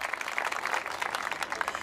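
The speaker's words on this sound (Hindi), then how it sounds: "आपको लगता है तो एक बार तालियां बजा के बताइए" Audience at a Hindi poetry recital applauding, a brief, dense wash of many hands clapping close together, lively and unbroken with no voices over it.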